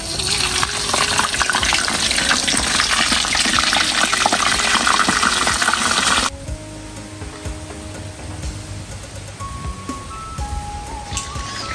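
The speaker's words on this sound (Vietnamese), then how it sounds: "Giờ em cho con cá vô em chiên luôn." A snakehead fish laid into hot oil sets off a loud rushing hiss that cuts abruptly to a quieter, steady bubbling sizzle with occasional soft clinks.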